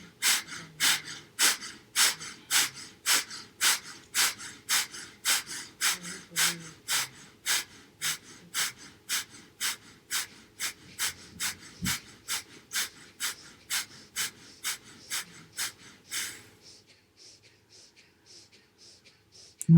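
Slow, deep rhythmic breathing during a guided meditation, about two dozen loud close breaths in a regular cadence, each a broad airy rush, tapering into quieter breaths near the end, with no talk.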